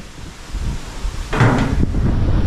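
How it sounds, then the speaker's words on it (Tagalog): Gusty wind buffets the microphone, a rough low roar that swells suddenly halfway through and stays loud to the end. "Lakas ng hangin, oh."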